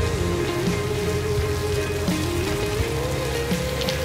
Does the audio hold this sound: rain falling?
yes